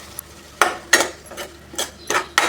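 Soaked moong dal goes into a pan of spring onion sabji with a spoon, making a series of about five sharp metallic scrapes and clinks in an irregular rhythm, close and moderately loud.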